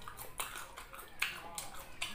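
Crisp bites of crunchy sour mango eaten with shrimp paste and chili give a few sharp close-up crunches at a steady, unhurried pace, with soft mouth sounds between them.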